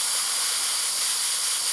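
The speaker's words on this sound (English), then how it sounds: "So you need to spray it on there just a little bit, just a little hint." Spray paint hisses steadily onto a miniature model base, a continuous bright airy spray lasting a couple of seconds, close and fairly loud with no voices.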